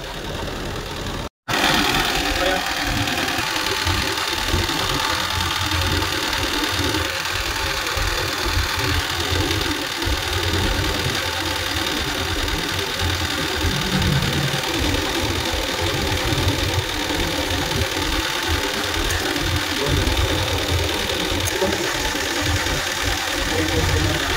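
A Mitsubishi Strada truck engine runs with its air-conditioning compressor engaged, a loud, steady close-up mechanical drone and rattle with no clear variation after a brief dropout at the start.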